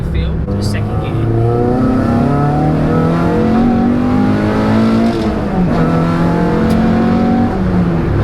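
A Renault Clio 182 engine pulls hard in second gear, a loud, steady rising drone with harmonic sweeps climbing across the whole stretch and a brief dip near the middle as revs build again.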